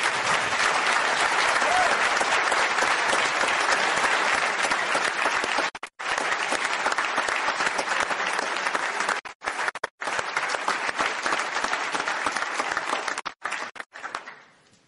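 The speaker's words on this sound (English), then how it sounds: "Let's give them all a round of applause." Sustained applause from a crowd at a Detroit police officers' bravery award ceremony, loud and steady, with a few brief pauses near the end before it tapers off.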